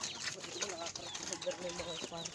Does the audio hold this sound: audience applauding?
no